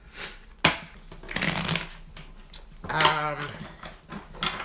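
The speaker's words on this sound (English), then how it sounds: "We're going to start shuffling your cards" Tarot cards are riffled and shuffled close up in a few quick bursts, with someone speaking softly between them.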